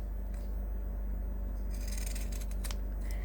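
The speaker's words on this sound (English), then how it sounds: "you're going to trim your zipper tabs, grabbing your pinking shears and not cutting into the zipper tape" Pinking shears trimming zipper tabs give a few crisp snips and rasping cuts, close, under a loud steady low hum that runs throughout.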